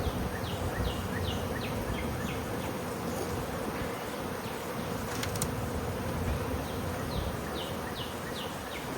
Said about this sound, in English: Got plenty of flying bees now.